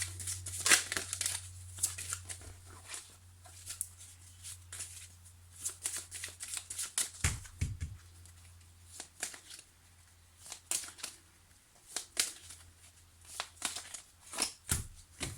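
Tarot cards being shuffled and drawn by hand, soft riffling and papery slaps coming in repeated bursts over a low steady hum, fairly quiet and close.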